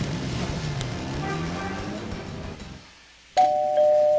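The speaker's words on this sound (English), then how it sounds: "Ding dong." A doorbell chimes at a grandmother's house in the adventure game Gabriel Knight: Sins of the Fathers, a clear two-tone ring that comes in suddenly after a fading rumble of game ambience.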